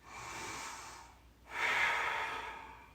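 Two deep, slow breaths during a vinyasa yoga session, a long airy inhale or exhale followed by a brief pause and a second fuller, louder breath, close and alone with no talking.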